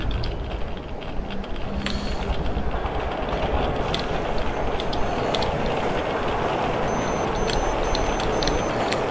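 A train in the video game Metro Exodus rumbles continuously, a dense, steady rolling roar with faint high beeping tones near the end, loud and alone without voices.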